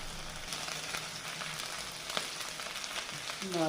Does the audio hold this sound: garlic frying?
yes